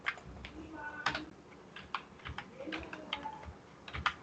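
Quick, irregular keystrokes on a computer keyboard while writing SAP ABAP code, close and fairly quiet, with light clicks and occasional heavier taps, no talking.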